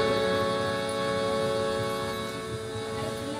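An ambulance siren gives a sustained, wavering wail that fades slightly over a few seconds, alone and without talk.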